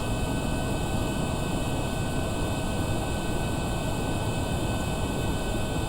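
Constant loud engine roar of an aircraft in flight in the video game Kerbal Space Program, a steady broadband drone with fixed high whining tones, unbroken throughout.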